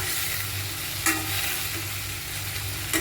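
Tomatoes tossed into a pan of cooked onions crackle with a steady close sizzle, broken by two sharp stirring scrapes.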